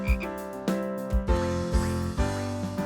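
Cartoon frog croaking in a children's animal cartoon: a series of loud, tonal croaks in a bouncy rhythm, set over a musical backing with no talking.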